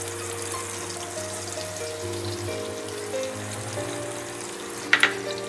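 Chopped onions sizzle steadily in hot oil in a pan for a Bengali kasundi dish, with a brief clatter near the end and no talking.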